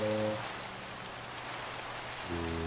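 Steady rain hiss in the video game Minecraft, a constant broadband patter running throughout, with game music tones fading out early and returning near the end.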